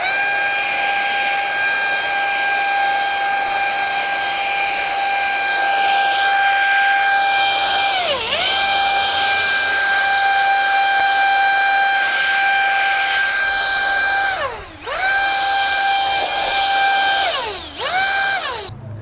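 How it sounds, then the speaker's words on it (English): Ryobi 18V ONE+ HP compact brushless cordless leaf blower running loud and close, a steady high-pitched whine that briefly dips in speed several times before surging back. "it's definitely strong as it's blowing the leaves here"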